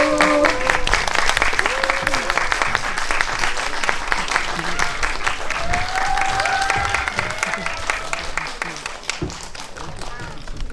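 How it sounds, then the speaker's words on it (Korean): Audience applause at a Korean film screening's audience talk welcoming the director and cast, a dense crackle of many hands clapping throughout, with voices talking over it and some whoops in the crowd. "큰 박수로 맞이해주세요"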